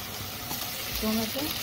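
Tomato and capsicum frying in a pan with spice paste, turmeric and salt for a fish biryani, a soft steady sizzle with faint tonal hum and a slight swell near the end.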